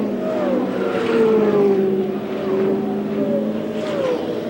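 IndyCar race cars circling the oval at Phoenix in 1978, engines droning with gliding pitch sweeps as cars pass at a distance, a steady mid-loud whine without talk.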